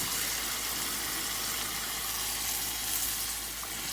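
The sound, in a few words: stirring tomatoes into cooking meat in a pan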